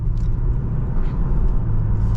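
A 2025 BMW M340i sedan accelerates in eco mode, giving a steady, subdued engine rumble from inside the cabin with no distinct shifts or surges.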